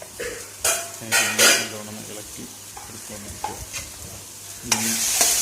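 Ghee hits a hot pan while jackfruit cooks, letting out loud sizzling bursts mixed with metal spoon scrapes and pan clatter, several sharp strokes then a steady background fry.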